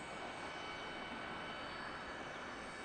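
An American Eagle CRJ900 regional jet arriving at Detroit Metro airport gives a steady, broad, distant engine roar that holds even throughout with no voices over it.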